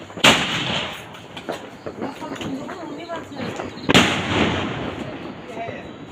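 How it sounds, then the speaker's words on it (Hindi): Two loud sky shot firework blasts a few seconds apart at a Diwali celebration, each a sharp boom trailing into crackle, with voices in the background. "पापा सामने स्काई शॉट जला रहे हैं। पहला ब्लास्ट नीचे।"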